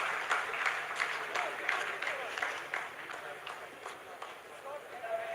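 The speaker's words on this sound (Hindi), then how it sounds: "आप इस तालियों के गड़गड़ाहट को सुन सकते हैं" Scientists at ISRO mission control applaud after the Chandrayaan-3 descent phase, a sustained patter of many hands clapping with a voice talking over it.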